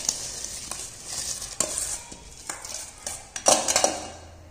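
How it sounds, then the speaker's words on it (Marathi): Rice is tipped into boiling water in a home cooking pot for chicken biryani and stirred. Close bubbling comes with clinks and scrapes of a spoon against the pot, and no one speaks. "आता त्यामध्ये आपण तांदूळ टाकून घेणार आहोत"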